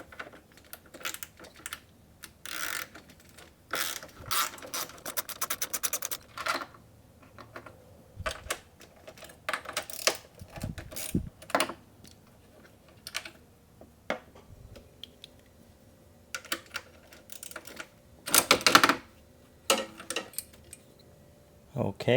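Metal clicks and rattles of a 10 mm ratchet and sockets as bolts are worked off the radiator fan of a 1991-2005 Acura NSX, irregular close bursts with short pauses and soft handling noises between.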